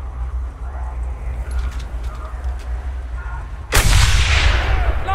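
A single heavy gunshot booms in the Mad Max video game after a stretch of low ambient rumble and faint clatter, loud and sharp, then decays into a long rolling echo.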